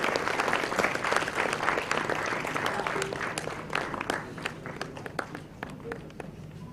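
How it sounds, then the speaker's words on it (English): An audience applauds the award winners at a CSIR-CLRI foundation day celebration, giving a steady round of clapping that holds at a moderate level and thins slightly toward the end. "can we have a huge round of applause for the winners, please?"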